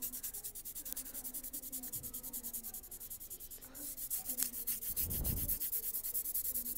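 Pencil strokes drawing clouds on paper, a steady close scratching and rubbing in quick repeated passes, with a heavier, rougher burst of shading near the end.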